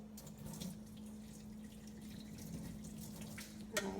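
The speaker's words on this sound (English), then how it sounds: "Pour this water out in the sink a little bit." Water is poured out into a kitchen sink during macaroni and cheese cooking, a steady faint splashing stream over a low hum, ending with a small clink.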